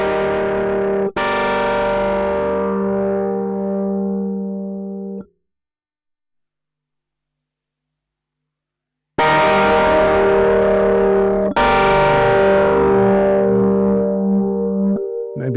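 A Behringer BM13 or Moogerfooger MF103 phaser pedal sweeps sustained, distorted tones in loud held bursts. The sound stops dead for several seconds of silence, then returns with fresh strikes that ring and fade.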